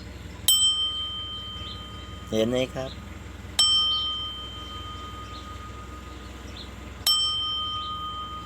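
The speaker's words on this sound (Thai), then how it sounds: "เป็นกระดิ่งที่สวยงามนะครับ เป็นออดเนาะ" An electric doorbell rings three times with bright, sustained metallic dings that ring out and slowly decay, spaced a few seconds apart, with a brief spoken phrase between the first and second rings.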